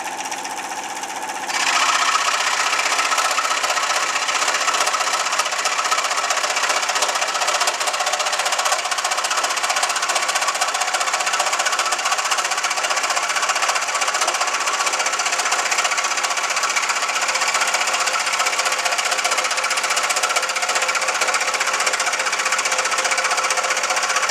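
A scroll saw starts up and cuts through wood, its rapid reciprocating blade giving a steady, loud buzzing chatter that runs without pause.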